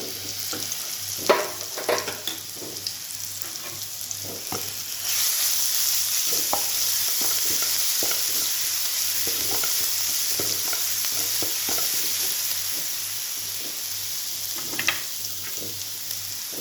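Chillies frying in hot oil over low gas for okra masala: a steady, bright sizzle that swells after a few seconds and holds, with scattered spatters and light utensil taps, close and moderately loud.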